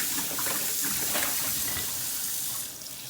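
Cold water runs steadily from a tap into a sink in a kitchen used to clean milking equipment and stainless steel water bottles, a loud continuous splashing rush that eases slightly at the end.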